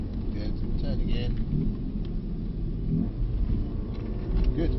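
A 2024 facelift Mercedes-AMG A35 accelerates out of a corner on track, engine rumbling steadily from inside the cabin while an instructor talks over it.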